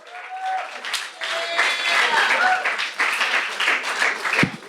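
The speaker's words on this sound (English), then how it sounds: "give him an extra round of applause" Comedy club audience applauding a comedian after his set, a dense wash of clapping with cheers and whoops over it, loud and sustained, mixed with voices from the room.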